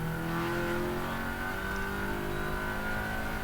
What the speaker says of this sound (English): So the 112 car is now about to start a fast lap